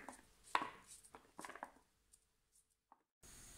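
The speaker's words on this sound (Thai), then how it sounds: "เราก็จะหั่นเป็นแบบเล็กๆหน่อย" A knife chopping sweet bee mushrooms into small pieces on a board, a handful of quick, close cuts in a short burst, then a quiet pause and faint rustling.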